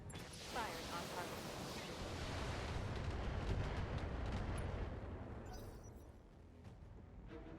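A volley of missiles fired at a mech in a BattleTech-style mercenary game makes a heavy, rushing roar of launches and impacts that swells and then fades, with faint talk underneath.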